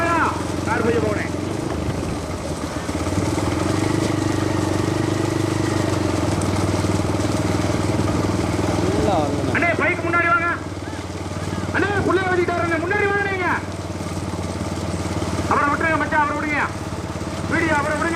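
Motorcycle riding alongside a bullock cart race, a steady engine drone running throughout with shifting revs, while people shout and talk over it at close range.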